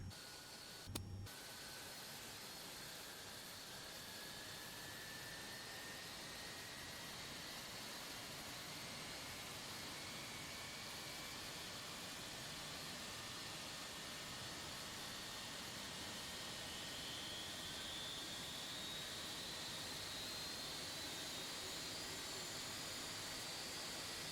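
A Boeing 757 jet engine spools up in the X-Plane 12 flight simulator, a faint, steady whine with broadband roar and slowly rising tones that hold evenly after a brief click at the start.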